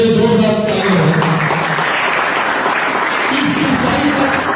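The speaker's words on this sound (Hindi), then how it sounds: "मैं चाहूंगा जय हिंद के लिए जोरदार तालियां हो।" Loud applause from an audience at an award and welcome ceremony honouring a wrestler, a dense steady wash of clapping that carries on after some voices and tones fade out early.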